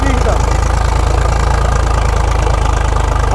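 A tractor engine idles loud and close with a steady low throbbing rumble and a slight knocking vibration throughout.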